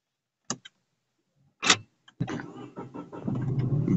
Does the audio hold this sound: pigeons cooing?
no